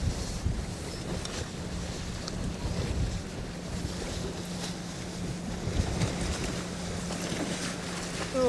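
Strong wind buffets the microphone on open water while walleye fishing from a boat on Green Bay. It is a steady, loud roar with splashing waves throughout.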